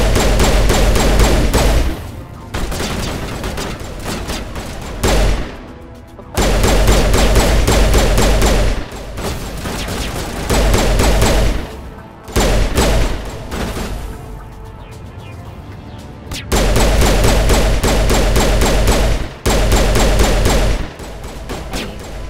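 Dense bursts of gunfire in Mass Effect Legendary Edition crackle in loud, rapid volleys, broken by short pauses, close and harsh.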